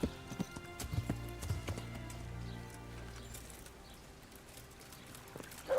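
Video game horse hooves clip-clop in a quick rhythm, then fade into a low steady rumble, with a short sharp sound at the very end.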